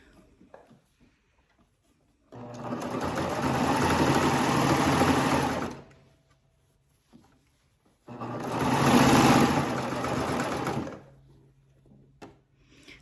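A serger sewing machine runs in two bursts of about three seconds each, a fast, whirring hum up close separated by quiet pauses with small handling clicks.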